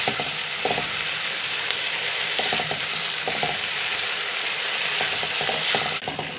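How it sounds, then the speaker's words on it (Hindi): Masala frying in a pan for a fish curry: a steady sizzle with a clear run of scraping, clicking stir strokes repeating in short bursts, close and fairly loud throughout. "बहुत अच्छा सा ये फ्राई हो गया हमारा मसाला"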